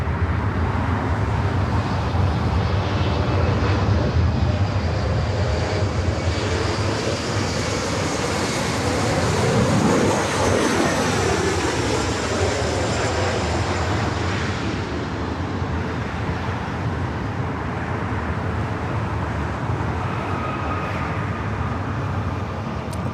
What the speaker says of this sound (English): the Dreamliner, heading up for a north side at takeoff